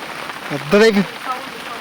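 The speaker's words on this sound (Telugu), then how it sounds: "ఫ్రెండ్స్ చెట్లలో వర్షం పడుతుంటే ఎట్లుంటుందంటే ఇట్లుంటుంది వర్షానికి" Steady hiss of rain pattering down on trees in a garden at night, with a brief voice cutting in partway through.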